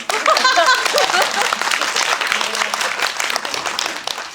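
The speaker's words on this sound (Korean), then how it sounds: "박수 한번 부탁드립니다." An audience at a film screening with a Q&A session in Korea breaks into applause, a dense, lively clatter of many hands that is loud at first and then tapers off, with a voice speaking over it.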